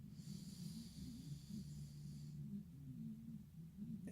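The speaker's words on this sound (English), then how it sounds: "Breathe in." A person draws a slow, deep breath in through the nose during a Reiki breathing exercise, a soft continuous airy inhale heard up close against a faint low hum, with no talking.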